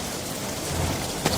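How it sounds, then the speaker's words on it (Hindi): Steady heavy rain falls with a low rumble of thunder underneath and a brief sharp crack near the end, a dense, loud, continuous storm with no voices. "बरसात हो रही थी, बादल गरज रहे थे"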